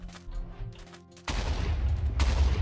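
A sudden loud Minecraft explosion bursts in after a stretch of game noise, then a broad rumbling roar continues and swells again near the end.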